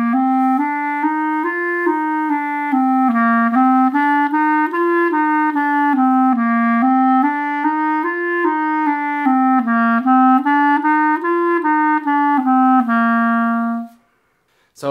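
Reed instrument playing a sustained stepwise melody, first smoothly slurred and then with tongued notes, loud and close with no talk, stopping abruptly near the end.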